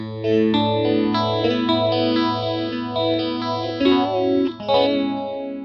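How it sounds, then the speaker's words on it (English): Distorted electric guitar chords shimmer through a sweeping phaser, its swirling tone rising and falling continuously, loud and close. "Magical phaser sound."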